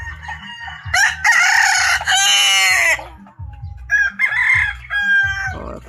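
Two wild roosters crow in close succession, loud and near, followed by a third shorter crow, with softer clucking and low farmyard sounds underneath.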